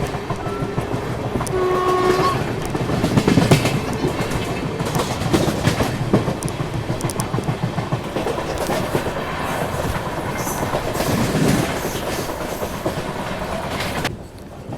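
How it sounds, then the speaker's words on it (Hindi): The Prayagraj Sangam Express pulling into Moradabad Junction station in the evening, heard from on board: continuous loud rumbling and clattering of the rolling train, with a horn blast early on and steady wheel noise throughout. "अपनी ट्रेन पहुंचने वाली है मुरादाबाद जंक्शन रेलवे स्टेशन"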